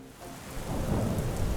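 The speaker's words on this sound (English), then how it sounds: "it started to thunder and lightning" A thunderstorm rolls through, with a low rumble of thunder building under steady, hissing rain falling on surfaces, growing louder toward the end and with no voices.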